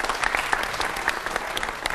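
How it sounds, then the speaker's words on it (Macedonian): An audience claps steadily at a school technical education event in Veles, a dense run of hand claps close and lively, with no talk over it. "Аплауз!"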